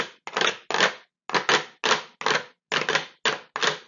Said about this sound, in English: Scraping.